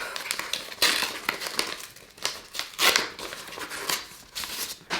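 Paper envelope from an illustrated Christmas advent calendar being torn open and handled, with crinkling, rustling and tearing bursts close by across several seconds and no talk.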